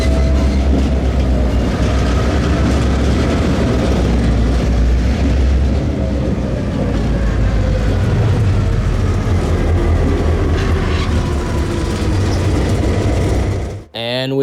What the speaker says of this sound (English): I decided to do this creative low-angle shot as the two units rolled by in the other direction